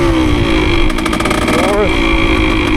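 A 1973 Yamaha CT3 motorcycle with a freshly rebuilt engine runs steadily up close, its pitch rising and dropping once as the rider shifts gears partway through.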